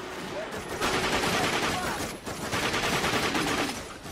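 Rapid gunfire in the video game The Darkness: dense, continuous bursts of shots that stay loud and close for several seconds, with a brief dip partway through.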